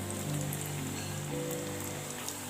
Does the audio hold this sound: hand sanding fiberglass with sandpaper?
no